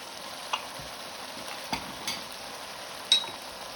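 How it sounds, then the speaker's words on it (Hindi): Prawns fry over high heat in a karahi, giving a steady soft sizzle. A few faint stirring clicks and scrapes sound over it, and no one talks. "तेज़ आंच पे इसको बस 2 से 3 मिनट हमने फ्राई करना है"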